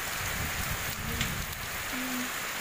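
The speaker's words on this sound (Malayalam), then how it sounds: "അപ്പം നല്ല ശക്തിയിൽ കാറ്റും നല്ല ശക്തിയിൽ മഴയും പെയ്യുന്നുണ്ട്." Heavy rain driven by strong wind at a house, a dense, constant roar of water on surfaces, loud and close without pauses, with no talk over it.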